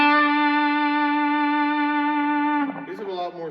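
An electric guitar plays through overdrive and distortion pedals on a church pedalboard, holding one long, sustained, buzzing note with rich harmonics for over two seconds before it slides into a few shorter bent notes.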